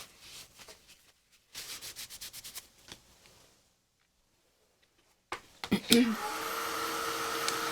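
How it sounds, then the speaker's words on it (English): A heat tool used for drying paint on a card blasts on near the end as a loud, steady rushing blow, preceded by scattered rubbing and handling noises and a silent gap. "I'm going to hit this with some heat."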